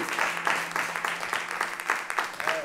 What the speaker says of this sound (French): une acclamation